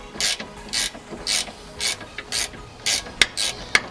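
A ratchet holds the thread still while the drop link nut on a Nissan 350Z adjustable drop link is undone, giving a steady run of crisp, close ratcheting clicks in regular bursts with no talking.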